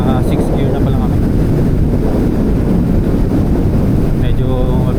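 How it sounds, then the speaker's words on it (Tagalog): Heavy wind buffeting a helmet microphone at speed on a motorcycle ride in sixth gear along an open road near Matabungkay, a loud continuous roar throughout with a voice briefly heard. "Lakas ng hangin."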